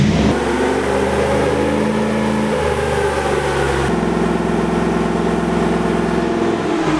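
A Toyota 1UZ-FE V8 engine in a Hilux pickup runs hard and steady under heavy load on a dyno, a deep continuous roar with a pitch shift partway through, loud and close with no talking.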